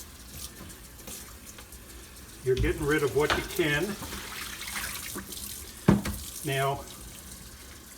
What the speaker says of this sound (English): So now I'll get the cold water on